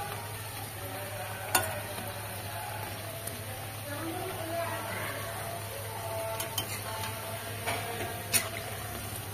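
Drumstick flower fritters fry gently in oil over low heat, a faint steady sizzle with occasional small pops and a few soft clinks of a utensil.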